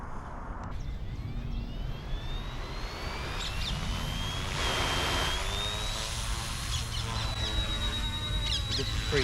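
RC helicopter flying in high winds, its thin motor whine sliding upward in pitch and then holding high over a constant roar of wind buffeting.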